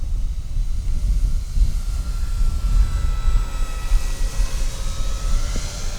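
An E-Flite Twin Timber RC airplane flying at half throttle, its motors giving a steady, moderately loud drone throughout amid heavy wind rumble, with faint tonal whine lines drifting slightly in pitch as the plane moves.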